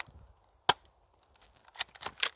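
A cheap Canuk pistol with a suppressor fires a shot that strikes a pole, giving one sharp, dry snap, then a quiet gap and a quick cluster of clicks and clacks close by.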